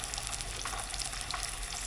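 A large black bass fries in a pan over lowered heat, giving a steady, close, dense sizzle with fine crackles that runs unbroken throughout.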